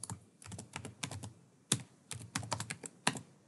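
Typing on a computer keyboard, close and clear: irregular bursts of quick key clicks with short pauses between runs and a couple of louder keystrokes, with no talk.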